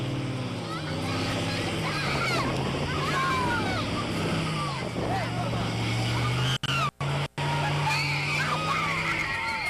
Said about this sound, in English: And then the boat takes off.